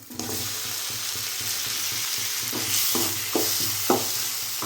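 Tomatoes frying in a pan, a steady sizzle broken by repeated scraping stirs that grow sharper toward the end, close and alone with no voices.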